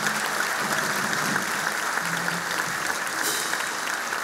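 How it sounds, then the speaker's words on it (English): Audience applause at a high school combined bands spring concert, a steady sustained clapping from a large crowd filling the hall for several seconds. "A round of applause for all the seniors,"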